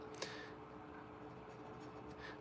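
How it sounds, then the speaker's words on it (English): Fine-nib fountain pen scratching across paper while handwriting, a faint, thin, continuous scritch in a quiet room with one brief sharper tick near the start. "with a fine or an extra fine comes the scritch."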